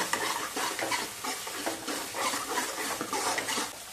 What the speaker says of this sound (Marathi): आणि पुन्हा एकदा मिक्स करून घेऊ